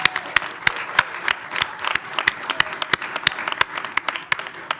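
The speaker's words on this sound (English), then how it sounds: "We'll give you a round of applause" Audience applause at a village board meeting after the girls finish speaking, a dense steady patter of claps with sharper individual claps standing out, sustained and moderately loud throughout.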